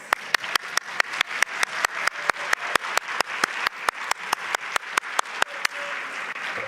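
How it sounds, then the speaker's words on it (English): Conference audience applauds panelists at a plenary session. Steady clapping runs throughout, led by one close, crisp clapper keeping an even beat several times a second. "applause for our panelists"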